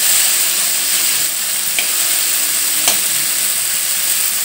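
Taro stolons stir-fried with green chili paste in a pan give a steady, loud sizzle throughout, with a couple of brief scraping clicks from stirring.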